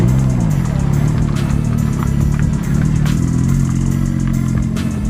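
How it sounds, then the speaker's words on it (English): A loud Porsche engine revs continuously at a car meet, with a deep, throaty exhaust rumble rising and falling in pitch, with faint voices in the background. "Porsche has a crazy exhaust on it."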